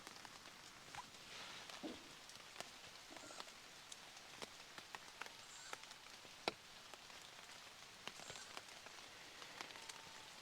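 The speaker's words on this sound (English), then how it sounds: "it's pouring down with rain now" Heavy rain pours steadily onto a hazel A-frame shelter at a minimal-kit woodland camp at night, a dense hiss broken by scattered sharp drips and taps close by, with no voices.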